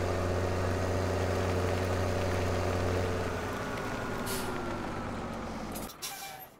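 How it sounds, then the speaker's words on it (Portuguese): A tractor in the Farming Simulator 17 video game rumbles steadily at idle, then its engine note drops and settles as it comes to a stop, ending with a brief hiss like a brake release. "Tô parando o nosso trator aqui."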